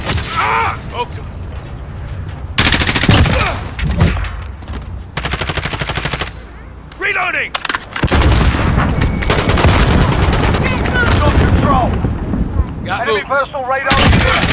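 Rapid automatic gunfire and heavy bursts in Call of Duty: Modern Warfare, loud and close, coming in long sustained volleys with short breaks, while voices talk over the action.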